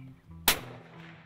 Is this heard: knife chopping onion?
no